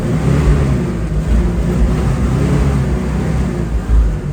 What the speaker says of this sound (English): You want to make sure you rev the piss out of these right after you start them.